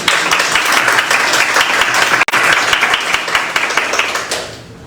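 A church congregation claps in a dense, lively burst of applause. It cuts out for a moment in the middle, then resumes and tapers off toward the end.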